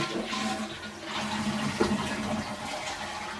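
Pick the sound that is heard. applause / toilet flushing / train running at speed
toilet flushing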